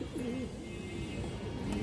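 A silver-marked pigeon with a black tail coos in a few low, wavering phrases, moderately loud and steady, with no talk.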